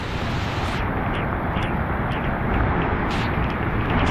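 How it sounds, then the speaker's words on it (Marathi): Heavy rain pours at Dhangar Waterfall near Badlapur as a loud, unbroken roaring wash that fills the whole clip, close and constant, with no voices. "जोरात आला पाऊस"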